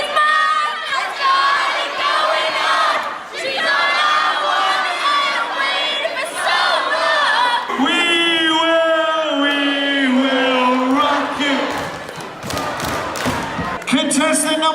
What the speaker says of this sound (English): All you have to do is get the crowd singing